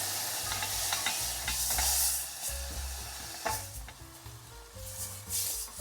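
Food frying in a pan, a constant sizzle broken by scraping stirs and light utensil knocks, close and without talk.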